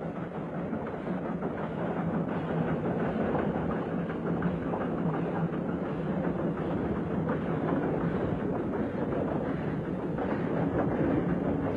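A steam rack and pinion railway train works through equatorial rainforest in 1970s West Sumatra, Indonesia, producing a dense, continuous mechanical rumble with faint rhythmic clatter, steady and fairly close, with no one speaking.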